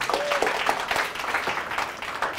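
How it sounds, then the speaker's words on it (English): An audience at a presentation workshop claps for a presenter returning to his seat. The clapping is moderately loud and uneven, with distinct individual claps standing out in a loose rhythm. "Let's give him a big round of applause"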